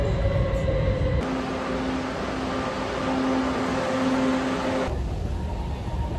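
Continuous rumble and whine inside a moving metro train in Kaohsiung, Taiwan, with a tonal motor hum rising and falling as the car runs, steady and enclosed, no talking.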